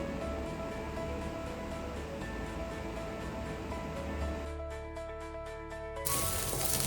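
Ginger garlic paste fries in hot coconut oil in a pan, giving a steady, soft sizzle throughout with a faint rhythmic tapping near the end.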